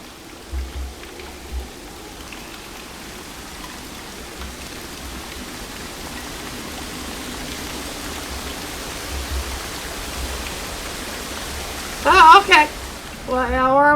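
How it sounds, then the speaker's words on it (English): A waterfall in the video game Dear Esther, a steady broad rushing wash of falling water that holds constant and fairly loud throughout, with a few brief tonal sounds near the end. "Oh my god, we're gonna walk out from the waterfall."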